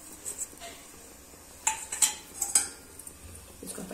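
A spoon stirs mashed boiled potatoes into a cabbage gravy in a metal pot, with soft scraping and a few sharp clinks of utensil against the pot, fairly quiet and close, without talk.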